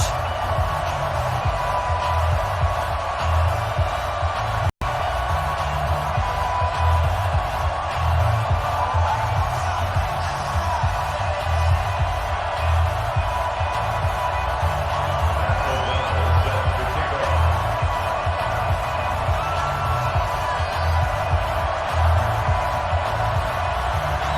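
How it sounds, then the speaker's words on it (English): Stadium crowd in an EA Sports NFL video game, Redskins hosting the Chicago Bears, holds a steady, dense roar with faint cheers rising and falling for the whole stretch, with one abrupt brief dropout early on. "this crowd is pumped up as their Redskins get set to match up with the Chicago Bears"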